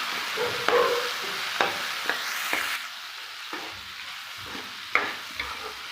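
Onions and tomatoes sauté in a pan, a steady close sizzle broken by repeated scraping stirs and sharp utensil knocks against the metal, with no talking.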